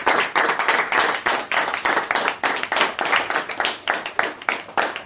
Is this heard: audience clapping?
yes